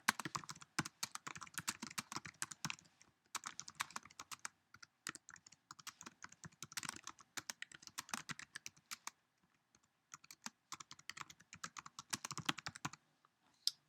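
Steady close typing on a Mac computer keyboard, rapid light clicks running in bursts with one brief pause partway through, fairly quiet and with no voices.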